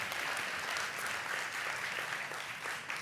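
Audience applause fills a hall before an evening ballet talk, a steady dense wash of many hands clapping close up for the full three seconds with no voices over it.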